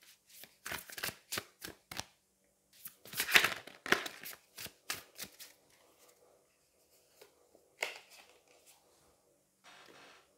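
Tarot cards being shuffled and drawn, with a run of quick, crisp riffling flicks and soft slaps up close, a denser burst in the middle, then a few scattered card snaps and quiet pauses.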